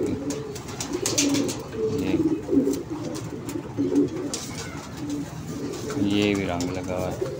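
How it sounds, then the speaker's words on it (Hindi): A banded pigeon coos in a few soft, low, rolling phrases close by, with other bird calls and someone speaking over much of it. "पट्टी वाला कबूतर है"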